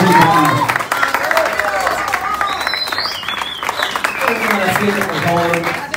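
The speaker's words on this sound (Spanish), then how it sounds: "Un fuerte aplauso" Wedding guests clap in a steady round of applause that starts loud and eases off, with voices calling and talking over the clapping.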